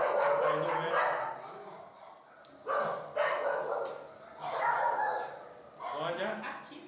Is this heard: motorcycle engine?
no